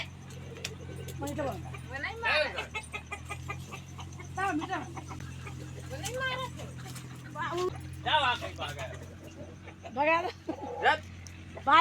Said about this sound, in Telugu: కోడి వచ్చింది